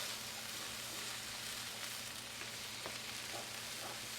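Okra and other vegetables browning in a hot pan, a faint, steady low sizzle with occasional soft stirring clicks and no voices.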